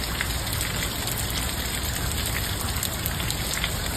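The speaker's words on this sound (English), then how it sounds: "it's pouring down rain again" Heavy rain pours down in a dense, constant hiss of drops striking surfaces, loud and unbroken with no voices.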